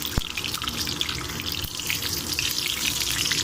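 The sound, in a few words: mustard seeds and cumin spluttering in hot oil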